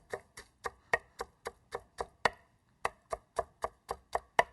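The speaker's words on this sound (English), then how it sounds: "rough chop this." Fresh spinach being rough chopped with a knife on a cutting board, a steady run of about fifteen crisp, close chops in an even rhythm with one short pause partway through, no talking.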